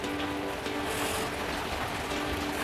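Steady heavy rain pours down in a rural Thai home setting, a dense continuous hiss filling the whole short stretch at moderate level, with no talk over it.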